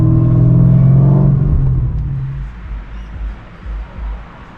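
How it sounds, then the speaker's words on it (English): Holden Commodore HSV VF GTS with the LSA engine rumbles loudly and steadily at first, then its note drops and fades into a lower, uneven idle with a few soft pulses. "likes to hear the HSV rumbling"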